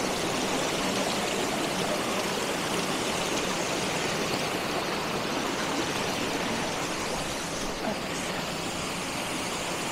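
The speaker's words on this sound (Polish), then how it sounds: "Fajny wodospadzik." A small waterfall in Carding Mill Valley rushes steadily, a dense, even wash of falling water with no pauses throughout.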